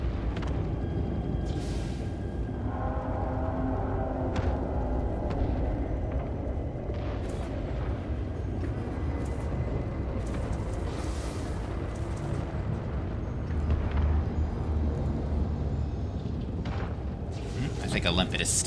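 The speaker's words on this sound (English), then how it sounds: "So I think it was just an explosion effect." Explosion effects in a video game: a continuous heavy rumble broken by repeated booms and bursts, with faint voices now and then.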